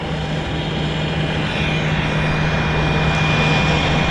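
Steady broad roar of a WestJet jet airliner taxiing onto the active runway at Vancouver YVR airport, heard from a distance as a continuous engine rumble and whine that holds level throughout.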